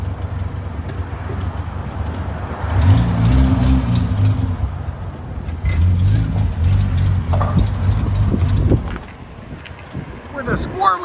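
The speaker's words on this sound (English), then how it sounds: "With a squirrely muffler," A 1989 Geo Tracker 1.6L engine with resonator exhaust and high-flow cat revs hard with a raspy, droning exhaust note, rising and falling in a few bursts, heard outdoors with wind noise.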